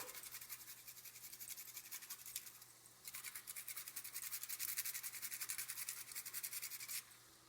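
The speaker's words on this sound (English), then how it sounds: "So we're gonna grate in a little freshly grated nutmeg, about 1/8 of a teaspoon." Fresh whole nutmeg is grated over a pot of sausage and beans with greens, making rapid, even scraping strokes that run steadily for several seconds, close and soft, with no talk.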